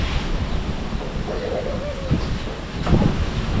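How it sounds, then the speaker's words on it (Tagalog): Strong wind roars near the sea, with waves running high, a loud steady rush with low buffeting on the microphone and a brief stronger gust near the end, while a voice speaks faintly underneath. "Grabe lakas ng hangin na ano."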